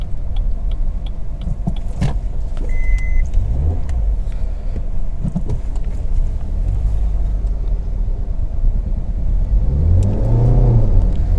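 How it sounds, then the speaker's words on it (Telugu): A 2022 Maruti Baleno facelift, front-wheel drive, revving in first gear: a steady mid-pitched engine drone rises and falls, climbing into a stronger, rising rev toward the end, heard from inside the car with no talking. "సో మీరు ఫస్ట్ గేర్లో సౌండ్ వినొచ్చు కదా, ఆ రేవింగ్ ఏదైతే ఉందో"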